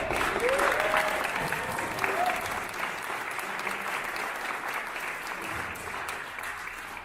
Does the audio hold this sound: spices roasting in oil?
no